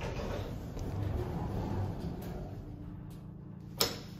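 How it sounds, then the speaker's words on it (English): A Schindler 330A elevator door slides open on the roof floor with a steady, fairly close mechanical rumble that fades out and ends in a small clunk. "We're gonna open the door."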